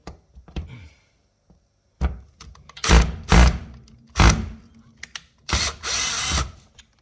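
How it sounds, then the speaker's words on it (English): A power drill backs screws out of a dishwasher door in several separate short bursts, loud and close, with quiet clicks and handling noise between them; no speech. "All right, so we're going to pop the screws on this"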